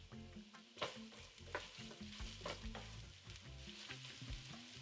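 Ginger and garlic, about a tablespoon of each, briefly sweating in a pot, a soft sizzle with repeated stirring scrapes and knocks of the spoon, close and faint.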